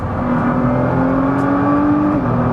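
An Audi Q7 accelerates hard after a downshift, its engine note rising steadily in a loud, close, sustained roar heard from inside the cabin, then dipping briefly as the revs settle.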